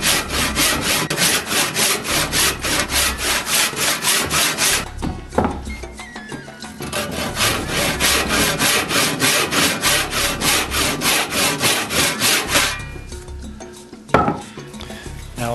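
Hand sawing through pallet wood: fast, rhythmic back-and-forth rasping strokes in two long bursts, close and loud, separated by a short pause and ending with a clunk.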